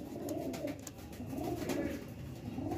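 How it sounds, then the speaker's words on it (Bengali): A flock of magnet breed pigeons keeps up a low, rolling coo close by, the throaty murmur rising and falling in waves without a break. "পিওর ম্যাগনেট পায়রা এটা"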